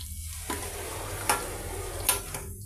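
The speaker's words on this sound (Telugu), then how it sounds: "మన టమాటాలు చక్కగా ఈ విధంగా ఫ్రై అయిపోయాయండి" Tomatoes frying in a pan for a red chilli paste, giving a low steady sizzle with a few sharp stirring scrapes at intervals, close and fairly quiet.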